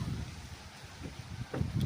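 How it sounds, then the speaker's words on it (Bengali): Steady gusty wind before rain rumbles across the microphone, a low continuous rushing with a few brief thumps near the end. "বৃষ্টি আইব বাতাস দিছে এখন দেখো"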